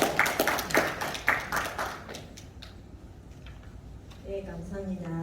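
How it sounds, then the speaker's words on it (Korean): Audience clapping in welcome at the closing ceremony of a special workshop for invited opinion leaders: a couple of seconds of brisk, fairly loud clapping that thins out and fades, followed by a voice speaking. "박수로 좀 환영하겠습니다."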